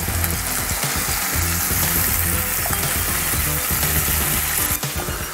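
Bell peppers for a Greek omelet fry in a pan with a loud, continuous sizzle and occasional stirring clicks, close and steady throughout.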